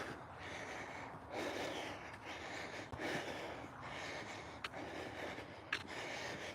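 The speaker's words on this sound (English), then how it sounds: "I'm breathing hard, but it's because it's really hot and I'm going uphill." Heavy, labored breathing from a hiker climbing a steep 10 to 12 percent uphill grade in hot weather, with repeated close, rasping breaths in a steady rhythm.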